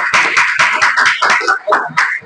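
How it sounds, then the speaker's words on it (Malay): Audience clapping in a classroom setting, a short burst of quick, bright claps from a small group, loud and close, lasting a couple of seconds. "Tepuk tangan sikit."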